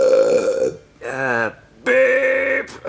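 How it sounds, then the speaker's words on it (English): A voice produces a loud, drawn-out burp during a meal, followed by a second, longer belch-like vocal sound with a short gap between the two. "you didn't even burp"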